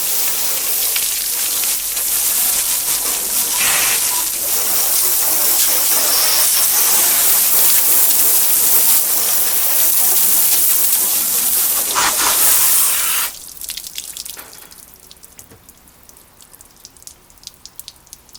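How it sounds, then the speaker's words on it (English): Water pours out through a drain on a barn-find 1977 Corvette with a loud, steady rushing hiss. After about two-thirds of the time it suddenly falls away to scattered faint drips and trickles. "The drain works."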